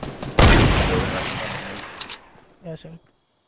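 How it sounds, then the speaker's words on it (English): Automatic gunfire in a Fortnite squads match: a loud, dense burst of rapid shots that trails off over a couple of seconds, followed by a brief voice. "There's one shooting at me."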